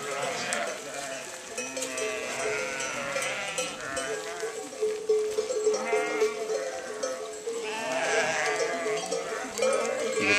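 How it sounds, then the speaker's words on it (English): A flock of sheep moving along a seasonal transhumance route in rural Spain, many overlapping bleats continuing throughout, loud and close, with cowbells clanking among them and possible faint voices. "quite a few sheep."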